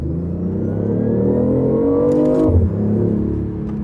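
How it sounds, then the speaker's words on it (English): A BMW i8 hybrid supercar with a three-cylinder engine revs loud and close, its pitch climbing steadily, then dropping sharply as the throttle lifts before the engine settles back to a steady drone. "It doesn't sound like a 3-cylinder electric hybrid. It sounds like a supercar V8."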